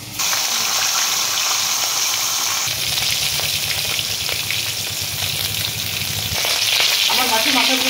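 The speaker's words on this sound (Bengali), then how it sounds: "আমার মাছের মাথাগুলো সব ভাজা হয়ে গেছে" Fish heads fry in hot oil for a fish-head rice dish, making a loud, continuous crackling sizzle close by, with stirring and scraping in the middle and bubbling spatter toward the end.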